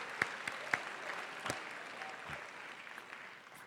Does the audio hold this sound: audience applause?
yes